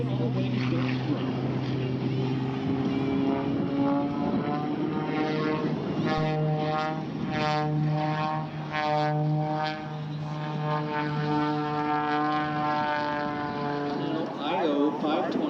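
A propeller airplane with an IO-520 engine of 285 horsepower drones steadily at the Oshkosh airshow, with a rising and shifting pitch, loud and continuous, while someone talks over it throughout.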